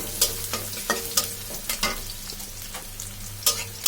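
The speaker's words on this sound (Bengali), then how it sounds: "তো আমরা রসুন আর পেঁয়াজটাকে একটু নরম করে নিব।" Garlic and onion sizzle and crackle in a hot pan, with repeated scraping and clacking as a utensil stirs them, close and without talk.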